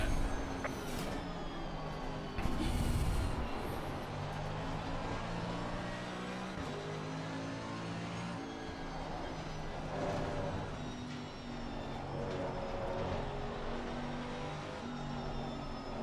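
Race car engines at Suzuka in a racing video game hum in a steady, continuous mid-level drone for the whole stretch, with a louder low burst early and no talk.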